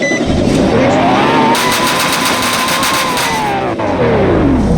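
A fast McDonald's car driven in a Roblox video game gives a loud, continuous engine drone whose pitch climbs and then falls as it accelerates and eases off, with no talk over it.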